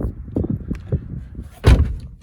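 The door of a 2019 Chevrolet Camaro SS is handled close by: soft rustles and clicks, then one loud thump of the latch as it opens. No one speaks.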